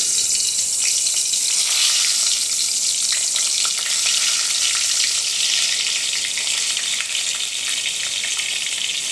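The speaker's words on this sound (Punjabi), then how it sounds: "ਤੇਲ ਗਰਮ ਹੋ ਗਿਆ ਹੁਣ ਆਪਾਂ ਬੈਂਗਣ ਨੂੰ ਪਾ ਦਵਾਂਗੇ" Stuffed eggplant for a crispy sabzi frying in hot oil in a kadhai: a steady, dense, loud sizzle runs throughout with no speech.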